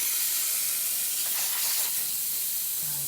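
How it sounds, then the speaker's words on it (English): Steam wand on a La Pavoni lever espresso machine after a tune-up, giving a steady close hiss with a short burst of louder spray near the middle and no talking. "no leaks, steamer working perfectly fine"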